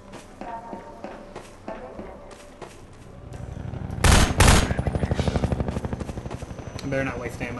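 Rapid video game gunfire bursts out loud in the middle of a shooter level, a dense run of quick repeated shots over background game noise and music.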